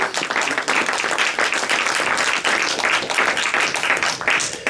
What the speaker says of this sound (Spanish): Que no le damos un fuerte aplauso al Señor